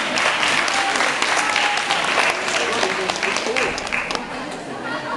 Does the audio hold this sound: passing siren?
no